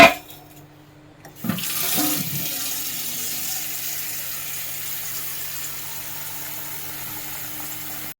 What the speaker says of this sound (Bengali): এই মা ভাতটা হয়েই গেল, জলটা দিয়ে দিই।